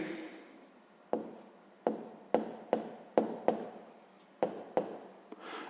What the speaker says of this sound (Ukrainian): Ну і записуємо тоді словами